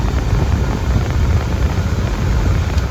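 A 2024 Mahindra Bolero Neo Plus air-conditioning blower runs at full speed, a steady loud rushing whoosh with a low rumble underneath.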